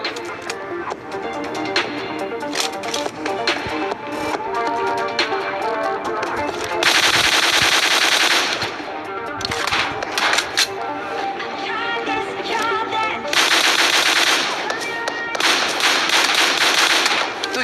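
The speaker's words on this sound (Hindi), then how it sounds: "मैं इनके कितना खतरनाक टैप फायर देने वाला हूँ।" Rapid bursts of M4 rifle tap fire in a battle royale video game, sharp close gunshots in quick clusters and sustained volleys throughout, with denser full-auto stretches mixed in.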